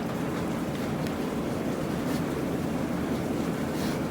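Steady, dense hiss and patter of heavy rain hammering down on a studio roof, unbroken and fairly loud for the whole stretch, with nobody speaking.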